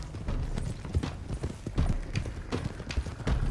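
Horses gallop in Red Dead Redemption 2, a fast, continuous clip-clop of several hooves thudding close by across the whole stretch.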